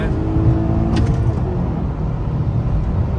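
Loud, sustained engine roar and tyre rush from a red VW Vento 1.6 TDI racing a Honda Accord on the road at speed, heard from inside one of the cars, steady and close with no clear talk.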